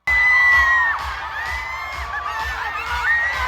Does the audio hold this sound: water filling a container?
no